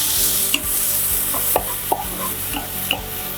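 Onion browning in a pan for a shrimp risotto sizzles steadily, with a few sharp utensil clicks and scrapes as it is stirred. No one speaks.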